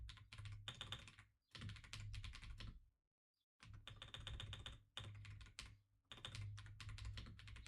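Quick bursts of typing clatter on a computer keyboard during Linux network configuration, dense clicking keystrokes broken by short pauses and one longer silence, close and alone.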